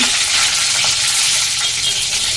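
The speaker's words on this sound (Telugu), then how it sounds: "ఆయిల్ హీట్ కాగానే పోపు దినుసులు జీలకర్ర ఆవాలు" Loud, steady sizzling of cumin, mustard seeds, chana dal, urad dal and dried red chillies crackling in hot oil, a continuous bright hiss with no talking.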